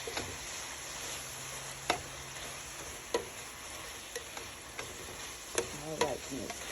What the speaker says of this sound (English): Just going to saute them until they get translucent.